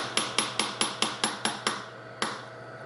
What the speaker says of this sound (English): take your bench block and hammer this in place